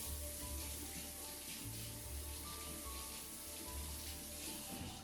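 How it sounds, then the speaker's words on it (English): A kitchen tap runs while frosting is rinsed off hands, giving a faint, steady hiss of flowing water with slight splashy variation throughout. "Rinse that off."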